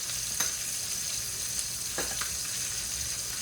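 Steak fat sizzling in a hot pan, an even, continuous frying hiss with a couple of faint pops, close and steady, nobody talking.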